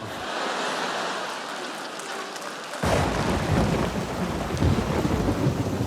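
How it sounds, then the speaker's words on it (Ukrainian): Thunder rumbles over steady rain, then a heavy downpour suddenly swells in and keeps pouring loud and dense, a storm breaking with no voices. "Мась, зараз що, дощ почнеться? Ну так, спочатку дощ, потім потоп"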